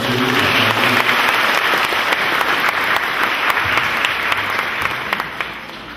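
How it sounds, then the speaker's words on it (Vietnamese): Loud, sustained applause from a large crowd at a Vietnamese Catholic parish ceremony welcoming a new priest, steady clapping that carries on for several seconds before easing slightly at the end. "Chúng ta có một tràng pháo tay rộn rã để chúc mừng giáo xứ."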